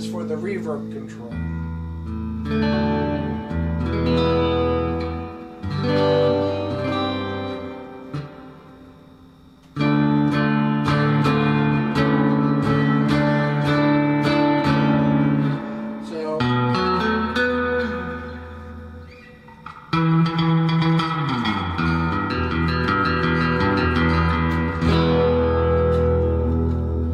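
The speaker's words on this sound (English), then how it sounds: "dial up the reverb" A 1963 Fender Jazzmaster electric guitar through an Allen Encore amp rings out chords and single notes with heavy, washy reverb, played in several bursts with brief pauses between phrases.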